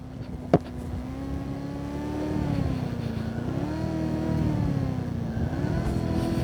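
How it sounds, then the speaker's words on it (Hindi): A car engine drones steadily from inside as it drives along a rough road with potholes and bumps through Moola Chotok in Balochistan, its pitch rising and falling with the throttle, with a sharp knock near the start. "गाड़ी चला रहे हैं हम लोग"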